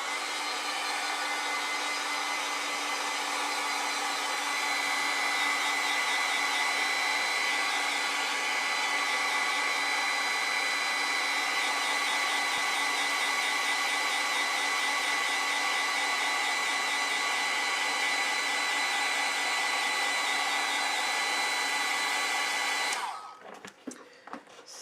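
A hair dryer blows steadily and loudly for over twenty seconds while drying acrylic paint on a snowman painting, then cuts off abruptly near the end with some handling noise.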